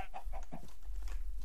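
Chickens in the Minecraft video game cluck in a quick run of short clipped notes over a steady low background hum, fairly close and continuous.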